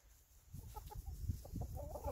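Chicken clucking in a backyard chicken run on a small farm, several short close clucks in an uneven rhythm, moderately loud with faint outdoor background.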